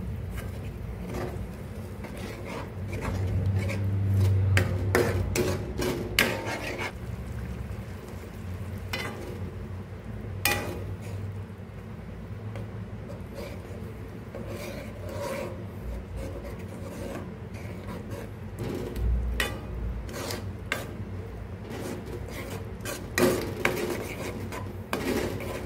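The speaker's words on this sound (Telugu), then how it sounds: "నీరంతా పోసుకుని నీట్గా కలుపుకుందాం" Tamarind water poured into a simmering tomato curry, then stirred: a soft bubbling sizzle runs underneath while a utensil scrapes and taps the pan now and then, all fairly quiet and with no talk.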